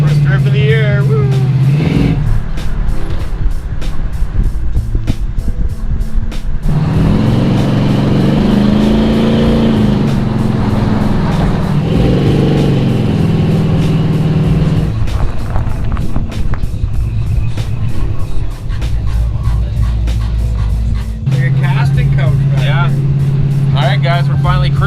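An LS-swapped hotrod cruises on the road, its engine droning steadily and loudly with shifts in pitch as it pulls and settles, while voices talk inside the car.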